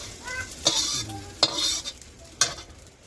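Chillies fry in a pan while being stirred, a soft background sizzle broken by three sharp, bright clinks and scrapes of the spatula against the metal.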